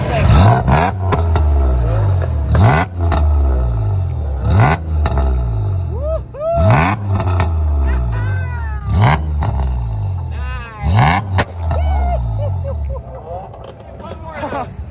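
A 1986 Nissan Z31 Fairlady Z engine fires up and revs repeatedly, each throttle blip rising and falling in a regular rhythm over a rumbling idle, loud and close, with people talking and exclaiming between the revs.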